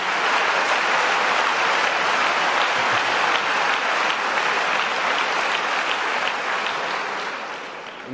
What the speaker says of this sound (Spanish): sabía yo que en este capítulo iba a tener aplausos